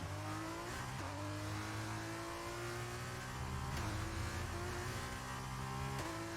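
A Formula 2 race car in F1 23 launching off the start in Bahrain, its engine screaming upward and shifting gear in quick, regular steps, with other cars audible around it.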